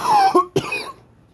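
A person gives one or two quick, harsh coughs close up, with a short rasping throat sound between them, then quiet.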